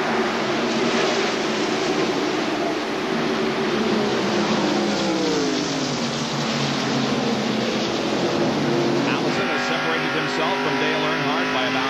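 Stock cars roar around the track at the 1991 Heinz Southern 500 NASCAR race, a loud continuous engine drone with rising and falling pitch sweeps as cars pass, with a commentator talking over it throughout.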